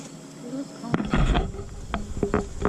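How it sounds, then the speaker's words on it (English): Honey bees buzz around the alpha hive of a backyard apiary, a steady close-up drone with brief louder passes as bees fly near, alongside a few knocks and handling noises. "I'm getting buzzed at bees from Omega"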